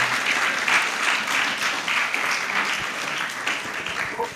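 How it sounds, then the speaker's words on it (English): Dense, steady applause from an audience at a book launch, sustained and close throughout without a break. "Please, another round of applause to her,"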